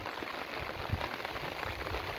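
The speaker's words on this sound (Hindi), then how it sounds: "बरसात का दृश्य ये" Steady rain falling in the Uttarakhand mountains, a dense, even hiss of drops on surfaces with no pauses, close and constant, with no voices.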